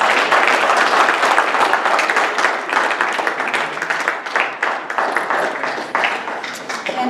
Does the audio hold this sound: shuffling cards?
no